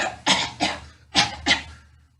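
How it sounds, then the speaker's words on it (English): Four sharp, close coughs come in two pairs, a person demonstrating coughing during a choking first-aid lesson in a taekwondo setting; the bursts are loud and separated by short pauses, with no talk between them. "If somebody starts to choke and they're coughing"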